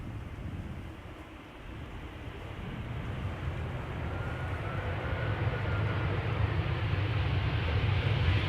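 An aircraft landing at Amsterdam Schiphol Airport gives a broad, rumbling engine roar heard from outside that swells steadily louder and deeper as it nears, with no voices over it.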